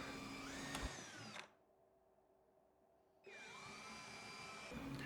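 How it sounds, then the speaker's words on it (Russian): A drill with a thin bit whines at high speed boring into wood for a desk, close and loud, stopping for a quiet pause before starting up again. "Засверливаю сначала тонким сверлилом"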